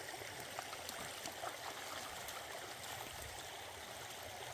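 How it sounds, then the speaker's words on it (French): A small river flows and trickles in a steady, soft babbling rush with faint gurgles, heard alone at moderate distance. "Là c'est alors déjà rien qu'une rivière qui coule"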